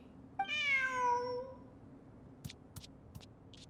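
A cat meows once in the video game Genshin Impact, a clear, drawn-out cry lasting about a second, followed by a few faint short clicks against a quiet background.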